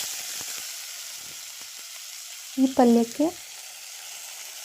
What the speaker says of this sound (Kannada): ಸಣ್ಣದಾಗಿ ಕಟ್ ಮಾಡಿ ತೆಗೆದಿಟ್ಟಿರುವಂತಹ ಬಾಳೆಕಾಯಿ ಸಿಪ್ಪೆಯನ್ನು ಈ ಒಗ್ಗರಣೆಗೆ ಹಾಕ್ಕೊಳ್ಳಿ.